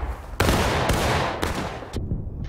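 Dense musket volleys in the Civil War shooter War of Rights crackle almost nonstop, with several loud broadband bursts layered over continuous distant firing.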